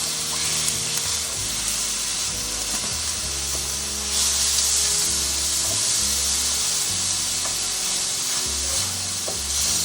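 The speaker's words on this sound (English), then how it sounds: "we have our fire on medium, and just start kind of mincing our meat" Lean 90-10 ground meat sizzles in a pan over medium heat while a utensil chops and scrapes at it in uneven, repeated knocks, loud and close, with no talking.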